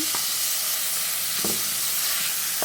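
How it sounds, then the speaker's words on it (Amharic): Garlic and ginger frying in a pan, a steady close sizzle and hiss with a few soft stirring knocks, no voices. "ነጭ ሽንኩርት ዝንጅብል እንደዚህ በደንብ አድርጌ ጠብሳለሁ"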